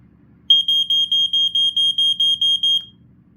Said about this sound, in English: It just sounds like your average typical 90s, 80s smoke alarm